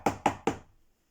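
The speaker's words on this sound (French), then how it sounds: "le loup courut jusqu'à la maison de la grand-mère, frappa à la porte" Three quick, evenly spaced knocks rap on a wooden door, close and crisp, followed by silence.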